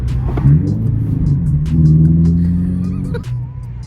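A Toyota 86 engine revs sharply during a downshift, a loud, close rumble rising in pitch, holding, then dropping off, with a blip near the end.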